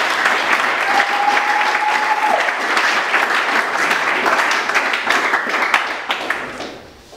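A church congregation at an international conference breaks into sustained, dense applause, many hands clapping at once in a loud, continuous wash that thins out and fades near the end.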